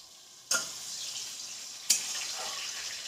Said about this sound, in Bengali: জিরে ফোড়ন দিয়ে দিচ্ছি।